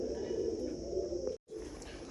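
Low, soft cooing of a Gurdev bloodline pigeon droning up close, broken by a brief silent gap before resuming.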